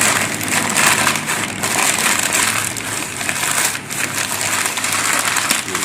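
Sheets of newspaper are crumpled and wrapped around freshly harvested garden papayas, producing a loud, close, continuous crackling and rustling that goes on for several seconds without speech.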